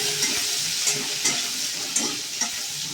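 Green chillies and tomato frying in a pan hiss in a loud, steady sizzle, with soft regular scrapes of stirring and no voices.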